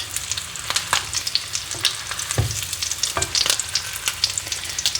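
Salmon patties fry in a pan with a steady, close crackling sizzle and scattered sharp pops. The sizzle runs without pause and no one speaks.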